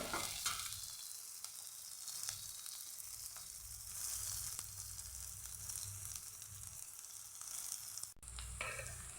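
Onions fry in a pan for a spinach and fish curry, giving a steady, close sizzle and crackle that runs unbroken throughout, with faint stirring scrapes.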